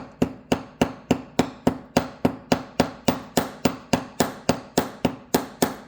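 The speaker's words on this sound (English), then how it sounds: "I'm kind of hammering that little tail wire that I tucked in down into the wire." Small hammer tapping a tucked-in tail wire down onto a wire-wrapped jewelry component, struck in a steady, even rhythm of about three sharp metallic blows per second, close and loud with no talking.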